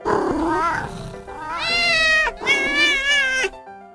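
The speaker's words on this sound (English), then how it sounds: "saw the two cats fight over the cheese" Two cats yowl and meow in drawn-out, rising and falling cries that overlap in a tense standoff, loud and close, with no talking.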